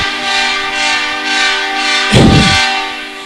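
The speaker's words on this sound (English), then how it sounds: "you hear that train sound" A train horn blares in a hockey arena during a university women's national championship game, a sustained, loud chordal tone over crowd noise, with a brief burst of cheering or thumping partway through.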